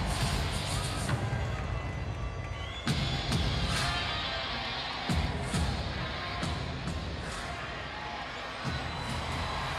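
A Havana boxing crowd applauds and cheers a Colombian fighter's effort after six hard rounds, a loud, sustained roar of voices and clapping with a few sharp thuds cutting through.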